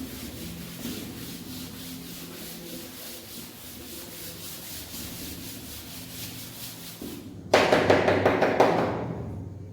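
Eraser rubbing out writing on a classroom board in a maths lesson, a long run of soft rhythmic scrubbing strokes that ends in a louder, brisker flurry of rubbing near the close.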